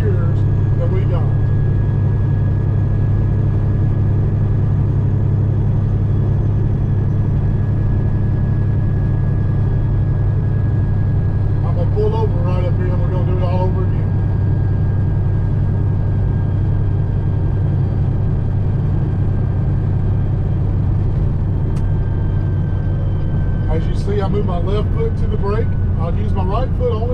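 Heavy truck with a 13-speed transmission cruising in high eighth gear, a steady deep engine drone running throughout while someone talks over it.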